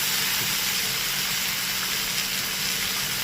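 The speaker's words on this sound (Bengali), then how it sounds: "দিয়ে দিচ্ছি ম্যারিনেশন করা চিকেনটা, চলে গেল" Marinated chicken sizzling loudly in a hot pan for a cashew and yogurt chicken dish, a dense, steady hiss of frying that holds close and unbroken from start to finish.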